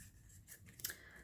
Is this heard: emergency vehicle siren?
no